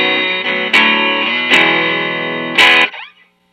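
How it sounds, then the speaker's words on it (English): Clean Squier Jazzmaster baritone guitar played through a Gibson Falcon amp, sounding three sustained chords with sharp attacks that ring out and fade to silence. "Here is the clean signal."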